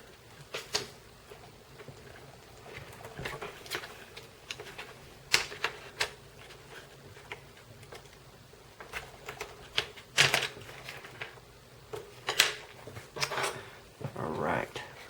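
Scissors or a blade snip off excess from a paper M1911 pistol model, giving a few sharp crisp cuts and paper rustles spread out at close range while someone talks quietly.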